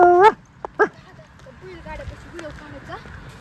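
A dog lets out a sharp bark, then a few quieter yips and whines further off, with people talking in the background during a song shoot.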